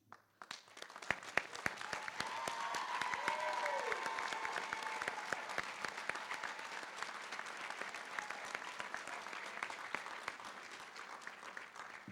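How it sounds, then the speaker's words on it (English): A crowd applauds graduating students standing at a university pre-commencement ceremony, with sharp individual claps standing out early before settling into a sustained, moderately distant round of clapping that slowly thins toward the end. "Would our graduating members please stand for a round of applause?"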